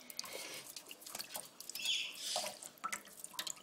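A rainbow lorikeet bathes, making soft, irregular splashes and drips of water close by, with light fluttering bursts and faint chirps in a quiet setting and no talking.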